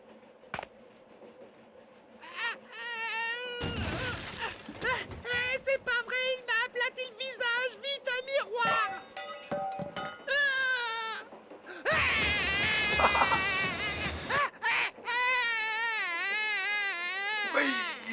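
A cartoon character wails and sobs like a baby, loud, wavering cries in long bursts with short breaks, with other voices mixed in.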